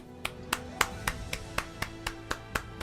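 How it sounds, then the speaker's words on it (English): Sharp, evenly spaced claps ring out one after another, a steady slow rhythm of single hand claps, fairly faint and alone. "Massive round of applause for these guys, man."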